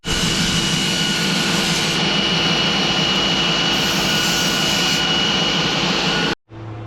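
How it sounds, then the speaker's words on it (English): A loud, steady grinding whine of a belt sander on rusty car body metal runs continuously, then cuts off abruptly near the end, leaving a brief low hum. "we're just belt sanding the next piece now"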